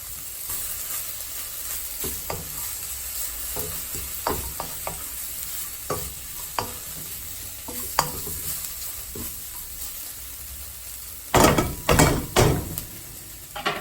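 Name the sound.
broccoli added to a pan and stir-fried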